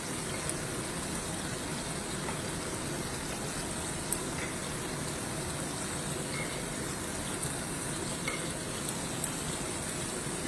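Chicken fillets fry in a pan with a steady, dense sizzle that holds an even level throughout, with a few small pops and no talking.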